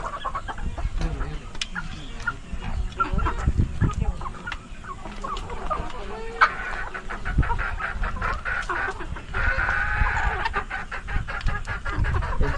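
A flock of chickens at a poultry farm clucks and squawks continuously close at hand, with sharp overlapping calls and busy rustling throughout, steady and loud with little break.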